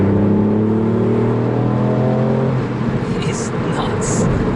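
A Ford Fiesta ST Mk8 fitted with a Mountune M225 upgrade accelerates hard from inside the cabin, its engine note rising steadily before a gear change and continuing to pull, loud and constant, with faint talk beneath.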